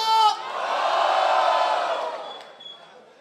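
A freestyle rap battle crowd cheers and shouts loudly for a rapper after a host's brief call, the roar holding strong, then tapering off toward the end.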